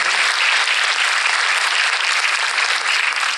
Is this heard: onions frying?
no